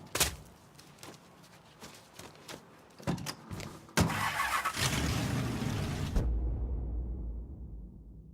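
A car engine in the video game Mafia 3 starts up with a burst of mechanical sound, then runs steadily and loudly for a couple of seconds before cutting off abruptly into silence.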